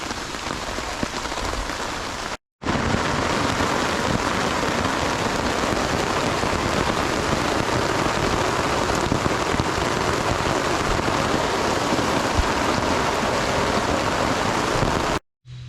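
Steady heavy rain drumming on a tarp at a campsite, a dense, even hiss close by and continuous, with no voices and only a brief cut near the start and end.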